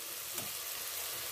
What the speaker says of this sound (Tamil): ஸோ தக்காளி நல்லா வதங்கிடுச்சு